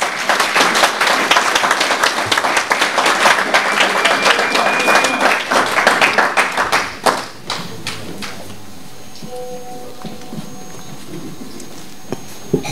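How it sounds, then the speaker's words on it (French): Dense audience applause for Vital Kamerhe at a UNC summer university gathering in Paris, loud and sustained for about seven seconds before dying away to quiet room noise with a few stray claps. "que je vous demande d'applaudir."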